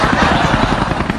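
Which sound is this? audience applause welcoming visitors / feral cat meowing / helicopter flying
helicopter flying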